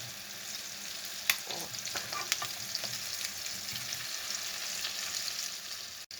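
Silver carp roe frying in a pan, a dense steady sizzle close up with sharp clatters and scrapes as pieces are flipped, no talking.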